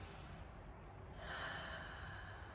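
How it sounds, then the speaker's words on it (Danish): A slow, deep breath, a soft airy inhale followed by a long, gentle exhale, faint and close during a calm morning meditation, with no talking over it. "Du tager en dyb indånding. Puster lige så stille ud."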